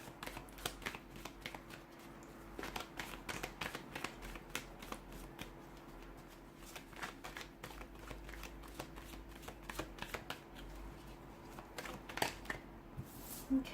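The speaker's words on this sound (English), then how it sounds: "let's go ahead and give the cards a shuffle" Tarot cards being shuffled by hand, a quiet, continuous run of soft riffling flicks and taps, close and alone without talk.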